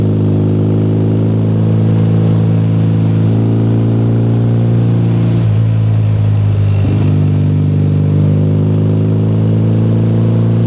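A Meriden-built Triumph Bonneville motorcycle engine runs loud and close, giving a steady, throbbing drone that holds without a break from start to finish.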